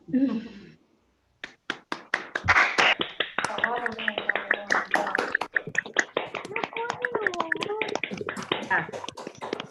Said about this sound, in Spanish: Pueden activar los micrófonos porque se hacen aplausos virtuales.